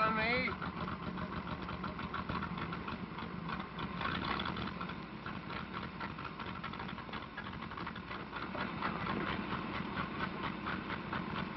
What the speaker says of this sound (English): This engine sure is missing.